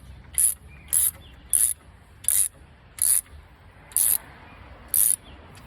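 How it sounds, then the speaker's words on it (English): A wrench turns a bolt on a bicycle platform rack in seven evenly spaced, sharp mechanical clicks about every half second, close and clear over quiet background. "I will probably get myself a ratcheting 17mm wrench"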